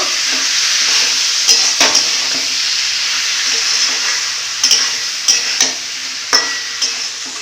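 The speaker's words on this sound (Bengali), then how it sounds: "এবারে দিয়ে দিব পনির মশলা স্বাদ মতন লবণ ভালো করে লাগাতাড়া করে নিব" Paneer with masala and salt stirred and fried in a pan, a steady loud sizzle under sharp scraping strokes of the spatula that come in short bursts every second or so.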